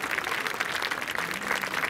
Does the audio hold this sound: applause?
yes